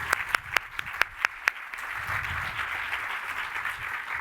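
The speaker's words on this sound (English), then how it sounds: "Today, a round of applause for Paul Dean." A few sharp, separate claps open, then a modest audience breaks into soft, steady applause at a Georgetown Law honoring ceremony, fairly distant and quiet.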